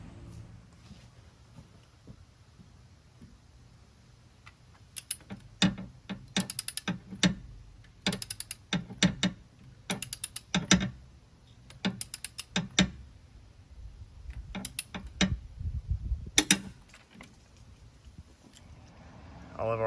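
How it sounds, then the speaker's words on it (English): A torque wrench tightens new spark plugs on a Jeep 4.0L engine, giving close, rapid bursts of ratcheting clicks in repeated rhythmic runs with short pauses between strokes. "All of our new plugs are now torqued down to 27 foot-pounds."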